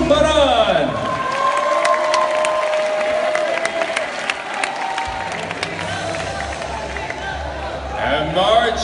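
A large audience at an international award ceremony applauds and cheers for an honoree from Sri Lanka, a dense, loud wash of clapping with crowd noise and voices through the whole stretch.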